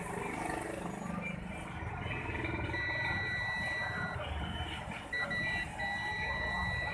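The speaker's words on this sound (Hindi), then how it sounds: "अभी बीप आ रही है" A multimeter in continuity mode gives a high, steady electronic beep while a receiver circuit is being repaired. Two sustained tones sound, the second after a short break, over background noise.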